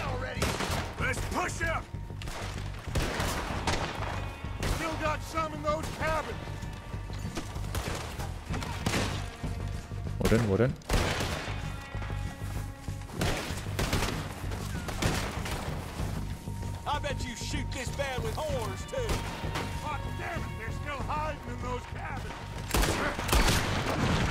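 Revolver gunfire in the Red Dead Redemption 2 video game, a steady run of loud shots and bursts over a dense game soundtrack, repeating throughout with occasional heavier cracks.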